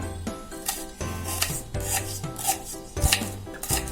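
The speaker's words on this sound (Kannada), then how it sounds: "ನಾನು ತುಂಬ ಚಿಕ್ಕದಾಗಿ ಹೆಚ್ಚಿಕೊಳ್ತೇನೆ" A knife finely chops an onion and a small tomato on a board for an egg mayo sandwich. The rapid, uneven strokes come close and steady, with no talking.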